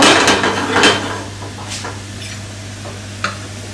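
Duck orange sauce bubbles and simmers as it cooks down in a pan, with a loud spoon scrape and stir at the start, then a softer steady sizzle and a single sharp tap near the end.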